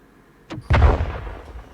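Weapon fire in the Star Citizen game: two sharp blasts a fraction of a second apart, the second a heavier booming shot that rumbles and decays over about a second.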